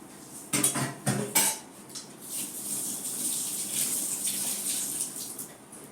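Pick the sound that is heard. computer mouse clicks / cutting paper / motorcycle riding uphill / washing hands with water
washing hands with water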